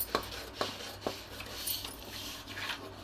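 Scissors snip through a paper pattern for a 42-size four-tuck blouse, with three crisp cuts near the start and then softer rustling and scraping of the paper, quiet and close with no talking.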